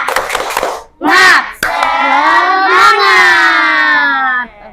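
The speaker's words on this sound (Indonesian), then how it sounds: "ice breakingnya kita gunakan tepuk semangat." A classroom of students performing a tepuk semangat clapping chant during an ice-breaking activity, loud group shouting in unison with short clapped bursts, a sharp rise, then a long drawn-out collective cry that fades.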